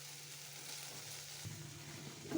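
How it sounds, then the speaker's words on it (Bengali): Okra tossed into oil with reddened cumin seeds sizzles in a low, steady hiss, with a brief stir near the end and no voices. "এই ভেন্ডিটা ফোড়ন দিয়ে নেবো এই যে জিরে ফোড়ন দিলাম জিরেটা লাল হয়ে গেছে ভেন্ডিটা দিয়ে দিলাম"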